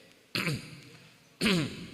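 Two short, harsh throat-clearing coughs from a person at a talk on Islam and culture in Yogyakarta, close and fairly loud, about a second apart, with no speech.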